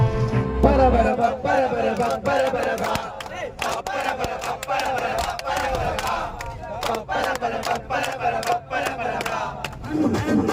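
Kerala Blasters football fans on the move in Kochi on a match day chant and shout together, a dense rhythmic crowd roar with sharp claps or beats punctuating it, close and loud.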